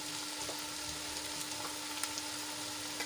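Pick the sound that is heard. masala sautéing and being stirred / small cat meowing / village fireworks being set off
masala sautéing and being stirred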